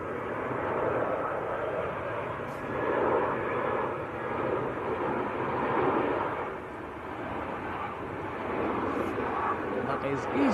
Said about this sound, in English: That is EasyJet from Oslo, an A320.